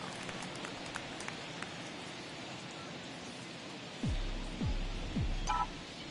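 Steady rain hisses over a ballpark in MLB The Show 21, a constant broadband wash throughout. Several low sweeping thuds near the end sit beneath it.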